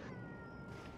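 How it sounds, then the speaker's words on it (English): A cat's mournful meow sounds during an XCOM 2: War of the Chosen gameplay stream, a drawn-out cry sitting in muffled, noise-suppressed background hiss. "Such a mournful meow from Missoon that I'm assuming is getting no"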